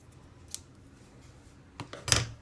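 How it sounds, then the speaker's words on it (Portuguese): Scissors cutting a wax candle to size: a faint early snip followed by a louder cluster of crunching cuts near the end, close and alone without talk. "cortar ela com a tesoura"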